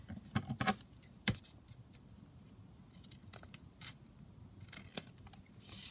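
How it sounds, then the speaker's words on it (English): Scissors trimming paper for a craft foldout booklet, a few crisp close snips scattered across a quiet room, faint and intermittent with short pauses between cuts. "so I'll just trim this down slightly"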